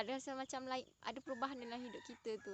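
Chickens cluck and a rooster crows on a small farm with chicks, in short repeated calls mixed in with someone speaking close by.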